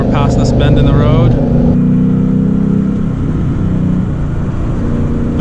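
Manual 2019 Ford Mustang GT in Sport Plus mode, engine revving up and climbing through gears close by inside the cabin, with someone talking over the steady drone.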